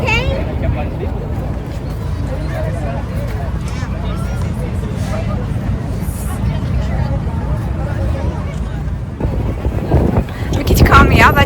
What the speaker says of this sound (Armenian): Մի քիչ քամի է, բայց ոչինչ